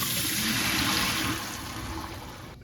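Rinse water pours and gushes steadily off beans draining in a pot while home canning, loud and close, easing off slightly toward the end with no talking.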